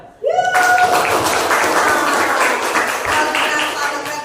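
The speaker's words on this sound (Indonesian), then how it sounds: "Tepuk tangan." Applause in an Indonesian classroom bursts in after a brief rising vocal cry and continues as a lively, fairly close patter of many hands, with voices mixed in.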